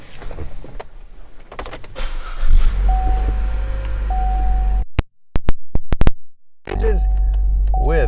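Power windows on a 2017 Chevrolet Trax LT whir in two stretches of steady motor hum inside the car, broken by a short gap of sharp beeps and clicks.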